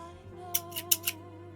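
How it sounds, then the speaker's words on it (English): A pair of scissors makes four quick, crisp snips in close succession, close to the microphone, over a faint steady hum. "I could bring out the scissors again."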